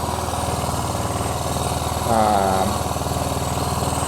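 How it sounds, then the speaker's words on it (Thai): A Honda Click 110i motorcycle engine running close by at a steady, rapid idle pulse, with a brief rev swelling slightly partway through. The motorcycle is being serviced and its idle is set too high. "ทำให้เครื่องยนต์เร่งเกินไปนะครับ"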